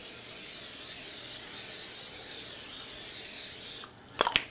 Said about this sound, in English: we will spray it down